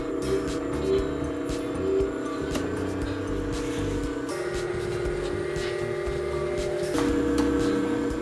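Hiley Tiger T8 electric scooter's motor running steadily with a sustained whine and hum, stepping up in pitch a couple of times, close and fairly loud, with no talking.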